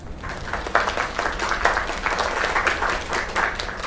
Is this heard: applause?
yes